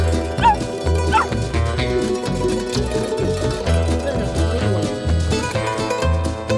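A dog yips and whimpers in short, repeated bursts over music playing in the background.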